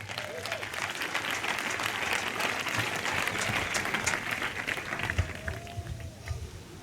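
A large crowd at a youth church gathering in Dabou applauds and cheers steadily, dense clapping holding at full strength for several seconds before easing slightly at the end.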